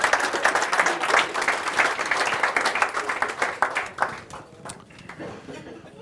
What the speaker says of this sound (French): On t'applaudit pour tout ton travail.